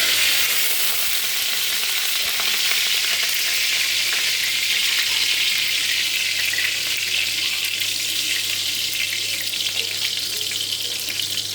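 Eggplant slices frying in hot oil in a wok, a steady, loud sizzle holding constant throughout with no talking.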